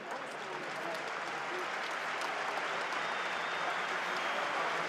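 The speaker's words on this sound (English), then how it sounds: "You can hear the applause ring out here." A rugby crowd at a Top 14 match between Perpignan and Clermont applauds, a dense, steady wash of clapping from a large stadium audience that holds at an even level throughout.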